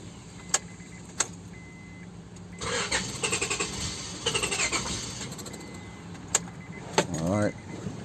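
A car engine cranks in short repeated bursts of rapid whirring between clicks and clunks, close by, ending with a rising whine.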